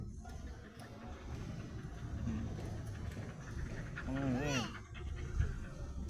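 A dog panting in quick, soft breaths, fairly faint and partly under people talking, with a brief whimper-like sound partway through.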